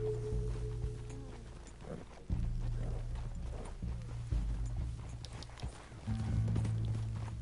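A horse's hooves clip-clop in the Red Dead Redemption 2 video game, a run of soft hoof beats over a low droning game soundscape that swells and shifts in steps.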